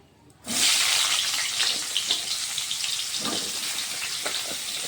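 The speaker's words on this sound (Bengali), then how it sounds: "তো আমি আলু আর পটলগুলোকে এখন একটু ভেজে নেব প্রথমে।" Potatoes and pointed gourd sizzle as they drop into hot oil in a wok, a sudden loud hiss after a brief quiet start that settles into a steady, close crackling fry.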